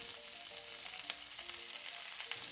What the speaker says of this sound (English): and dried red chilies and lightly saute them.